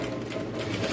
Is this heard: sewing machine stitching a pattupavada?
yes